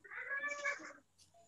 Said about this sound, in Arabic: عشان في صوت قطة.